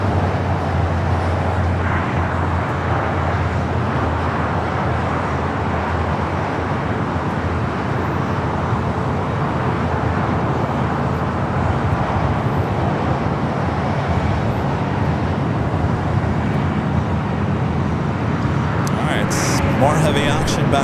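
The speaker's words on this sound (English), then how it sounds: "787-9 Dreamliner up next." An Austrian Airlines Boeing 787-9 Dreamliner at Los Angeles airport, a loud continuous jet engine roar under broadband wind noise, with talk over it.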